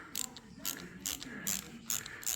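Ratchet being worked to tighten the fork pinch bolts on a handmade rigid Harley Buell chopper, a series of close, sharp clicking bursts in short repeated strokes, with no talking.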